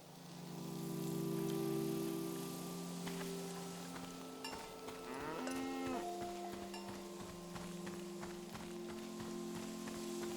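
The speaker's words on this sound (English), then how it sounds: "The name of this cow is TVC-15." Cows in the video game Season: A Letter to the Future let out long, low, drawn-out moos over a steady background of machinery-like hum and rain-like hiss.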